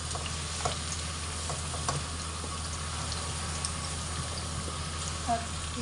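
Oil sizzling in a small frying pan while cooking chicken curry, a steady, close crackling hiss with occasional louder pops and faint clinks.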